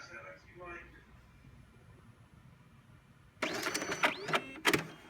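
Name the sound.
card printer printing a pass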